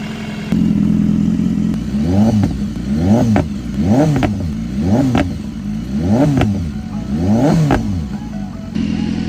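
A BMW S1000RR sport bike, bought after being flooded and now running, revs hard in a series of about six sharp rising-and-falling blips, each ending in crackling deceleration pops, loud and close with no talk.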